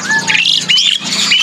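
A Javan jenggot bird calls at the Pramuka bird market in a bright, close burst of repeated chirps and squawky whistles, loud and rapid across the short span.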